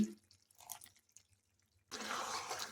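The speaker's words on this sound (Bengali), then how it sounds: "মিক্সির বাটি ধোয়া সামান্য জল এর মধ্যে দিয়ে দিচ্ছি" A little rinse water from a mixer jar is poured into a pan of chicken hariyali curry. Faint drips and clinks come first, then a steady, fuller splashing pour fills the final second, with no talk.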